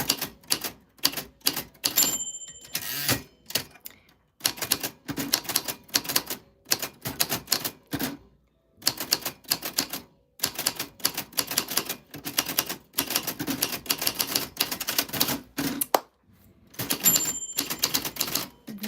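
A typewriter's keys are struck hard in quick rapid bursts of clacks, separated by short pauses, close up and with no talk over them.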